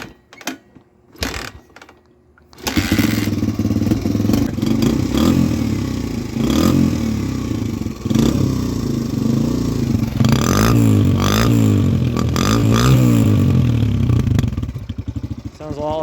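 A 2022 Suzuki DRZ125L dirt bike starts after a few quiet clicks, then idles loudly and revs repeatedly close by, with the engine note rising and falling throughout.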